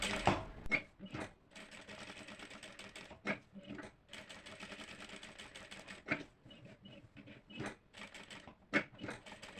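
Sewing machine stitching fabric in short rapid bursts separated by brief pauses, a zigzag-style seam being run, close but fairly quiet with no talking.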